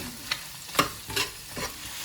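Square-cut onions stirred into a hot pan with ginger, garlic and green chillies for chilli chicken, a steady sizzle broken by three or four sharp scraping stirs of a spatula.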